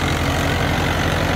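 A 2010 Fiat 640 tractor engine drives a 100-cutter wheat thresher, giving a steady, close, low diesel drone with an even throbbing pulse and no talk.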